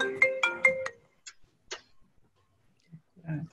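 A phone ringtone plays a few quick melodic tonal bursts, fairly close and clear, then stops and leaves near silence broken by faint soft rustles and a brief low voice, during a qi gong session.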